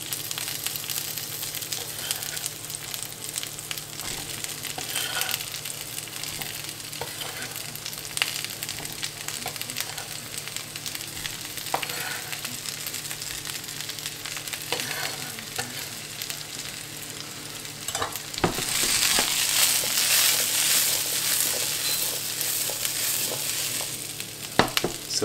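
Asparagus fries in a pan with olives for a pasta salad, a steady close sizzle with occasional light scrapes, swelling brighter and louder near the end.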